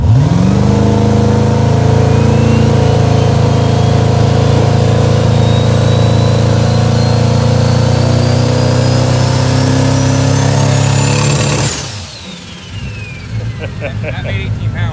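A turbocharged fourth-gen car engine is held at stall on the foot brake, producing a loud sustained drone with a climbing turbo whistle, then abruptly drops to a lower idle.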